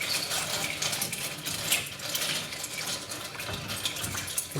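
Thermometer stirring melting ice cubes in water, a continuous close clatter of ice knocking and swishing with small clinks scattered throughout.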